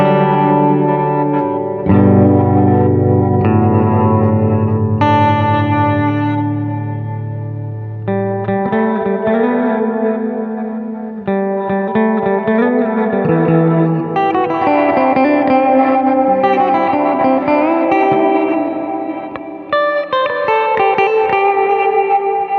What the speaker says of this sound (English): Now let's change the fidelity of those glitches.